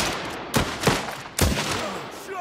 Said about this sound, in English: that's a big, heavy sniper rifle we've got going up there